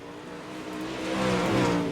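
Race cars roar down the back straightaway of a dirt track during a heat race, a loud, rising engine drone building as the field passes close by with no talk over it.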